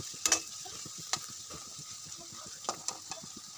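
Onions fry in a pan with chopped garlic for a soya chilli. The sizzle is soft and close, broken by several small clicks and taps of stirring.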